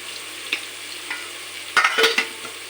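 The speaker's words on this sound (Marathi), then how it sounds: "हलवा हळद टाकू तेलामध्ये, म्हणजे मसाल्याला लागतं." Turmeric frying in oil gives a soft steady sizzle while a utensil stirs it close by. Several distinct scraping strokes and clinks are spaced through the sizzle, with no talking.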